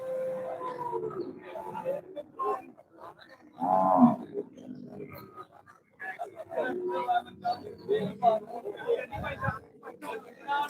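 Buffaloes call with deep, drawn-out moos in the buffalo section of the Manjeri cattle market in Kerala, one loud nearby call standing out amid steady crowd chatter and livestock noise.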